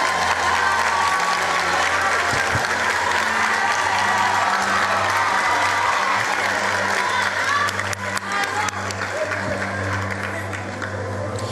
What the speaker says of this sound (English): A round of applause for KwaZulu-Natal